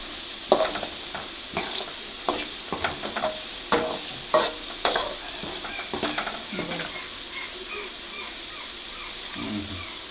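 Aval, flattened rice, frying in oil and being stirred: a bright sizzle with repeated scraping strokes and clinks in an irregular rhythm, busier early and settling into a quieter hiss later.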